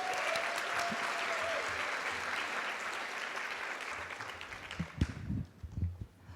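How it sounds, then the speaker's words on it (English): A summit audience gives sustained, even applause for about five seconds before it stops abruptly, leaving a few low thumps and shuffling noises in the room. "Another round of applause for Delisa and Monica,"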